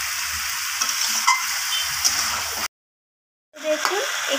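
Chicken stirred and browned (kosha) in hot oil, giving a steady close sizzle with scraping stirs, a brief silent gap, then the frying resumes.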